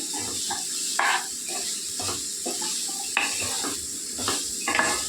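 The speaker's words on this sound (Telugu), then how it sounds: "పద్ధతిలో బాగా కలుపుకోవాలండి. ఉప్పు పసుపు కలిసేలాగా మొత్తం అంతానే" Spiny gourd (aakakarakaya) curry with salt and turmeric being stirred in a pan, a steady scraping and sizzling with repeated spoon-against-pan clinks at an even, unhurried rhythm, close and clear with no talking.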